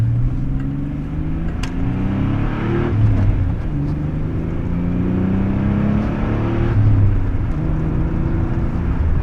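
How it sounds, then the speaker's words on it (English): The V6 of a 1987 Pontiac Fiero runs on the road, a close steady engine drone with low harmonics rising and falling as it pulls through gears, with no talk over it. "But just take a listen to this V6."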